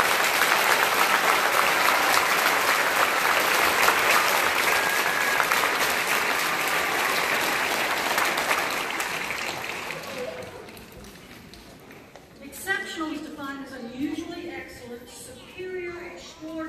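A school audience applauds and cheers steadily for second-grade academic scholars at an awards ceremony, with loud sustained clapping that fades near the middle and gives way to scattered voices talking.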